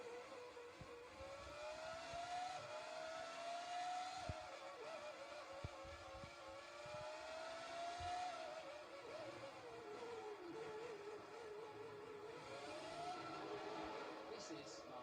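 Formula 1 cars racing on track in the F1 2003 game, engines whining with rising and falling pitch sweeps as cars pass, steady and continuous under a commentator's talk.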